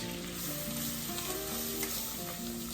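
Flour cooks in a pan over medium heat for a poutine gravy roux with bacon nearby, making a constant close sizzle and crackle with faint stirring and no talk.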